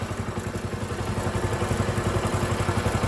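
A Kawasaki Rouser 135 motorcycle that had trouble starting runs with a close, loud, rhythmic pulsing engine note that holds fairly steady throughout.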